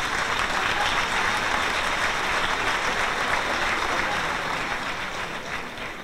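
Sustained audience applause at a Holy Week poster and magazine presentation in Hellín, a dense, even clapping that fades slightly toward the end, with no talk over it.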